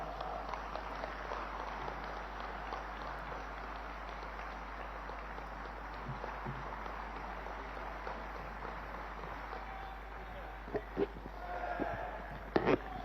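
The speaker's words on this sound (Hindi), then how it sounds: "खड़े होकर तालियों की गड़गड़ाहट से हम प्रधानमंत्री जी का धन्यवाद अर्पित करेंगे" A seated audience claps steadily after Prime Minister Modi's speech at the Scindia School's 125th anniversary event, a dense, even wash of applause over a low electrical hum, thinning out near the end with a few louder knocks.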